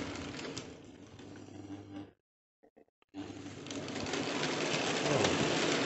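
A 1955 Hornby Dublo 264 tank model locomotive on a three-rail layout runs past with a dense, whirring mechanical rattle that cuts out briefly, then returns louder and steadier.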